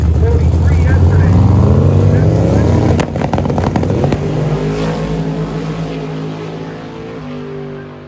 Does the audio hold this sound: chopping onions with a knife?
no